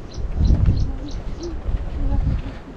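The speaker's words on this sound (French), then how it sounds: "Et on entend le bruit des oiseaux." Birds calling outdoors near a lighthouse in Cape Town, with several short cooing and chirping calls at moderate distance, over wind noise and people talking.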